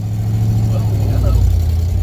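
A 1978 Ford truck engine runs steadily in third gear with a slipping, wacky clutch and a possible exhaust leak, a loud continuous low rumble throughout, with some talk close by.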